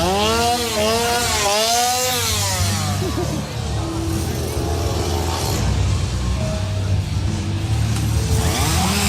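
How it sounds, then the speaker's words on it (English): Chainsaws whine and rev continuously over a dense, noisy crowd at Halloween Horror Nights, Universal Studios Florida, the motor pitch swooping up and down at the start. "Oh, I hear chainsaws."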